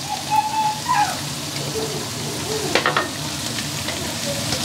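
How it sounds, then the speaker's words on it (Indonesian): Flour is stirred into cooked shrimp in a pan, with a steady sizzling hiss, scraping stirs and a couple of clustered clicks from the spatula, close and even throughout. "Kita aduk."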